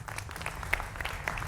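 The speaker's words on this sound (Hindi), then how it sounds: "जोरदार तालियां, अभिनंदन" Steady studio audience applause on a Hindi political talk show, a dense, even patter of many hands heard at a modest distance with occasional sharper claps standing out.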